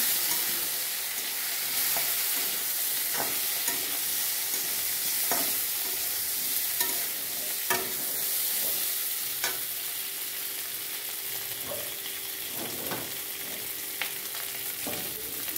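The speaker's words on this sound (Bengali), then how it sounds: "লঙ্কার গুঁড়া দিয়ে দেবো, নাড়াচাড়া করবো।" Chili powder being stirred into food frying in a pan, with a steady sizzle and a series of scraping spoon strokes that recur at irregular intervals throughout.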